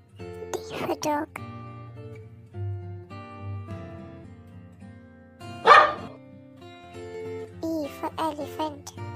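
A dog gives a couple of sharp barks, one early and one louder midway, over soft background tones and music.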